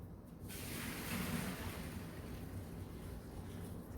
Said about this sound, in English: take the pot and drain the water